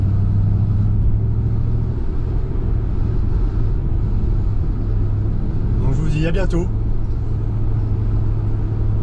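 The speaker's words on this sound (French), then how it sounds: "je vous laisse sur ces bonnes images avec le son du V8" A Ford Mustang Bullitt V8 rumbles steadily and loudly throughout, with a brief rising rev or pass partway through, while a voice speaks over it.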